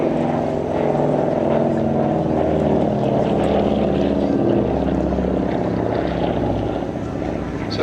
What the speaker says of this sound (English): Let's watch those pass of the L12.